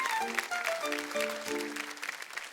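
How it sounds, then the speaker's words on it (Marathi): Studio audience clapping on a Marathi TV game show, a short burst of applause mixed with a melodic musical sting playing over it. "एकदा जोरदार टाळ्या होऊन जाऊ देत."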